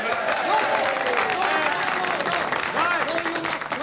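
An audience applauds a political speech about pensions in a 1905 period drama, a broad wash of clapping mixed with crowd voices and someone speaking over it throughout.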